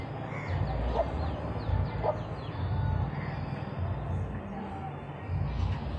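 Chickens clucking and fussing as they are herded into a coop, mostly faint and low under a steady background, while someone speaks over them and a dog may bark briefly.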